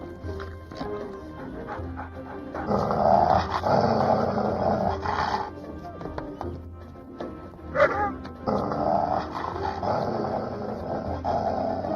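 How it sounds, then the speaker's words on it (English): A dog growls and barks in an animated film scene, with scuffling and busy background sound throughout; a sharp bark stands out near the end. "Woof, woof, woof."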